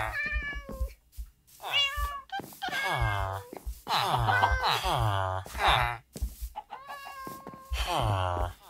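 A cat in the video game Minecraft meows repeatedly, a quick run of clear, close, high-pitched meows one after another with short gaps between them.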